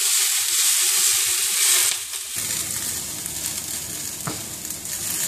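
Konjac-noodle yakisoba in sauce being stirred in a pan, with a steady sizzle and fry hiss that drops lower partway through, plus scraping stirs and a brief sharp clink near the end.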